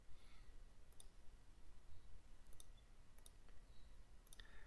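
Computer mouse clicks from working with the smart fill tool in CorelDRAW, four sharp, quiet clicks spaced about a second apart over a soft steady hiss.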